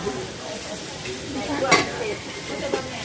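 Pork sizzling and being stirred in a pan for Korat-style stir-fried noodles, a steady close crackle with a sharp scrape of the utensil midway and another smaller clatter near the end.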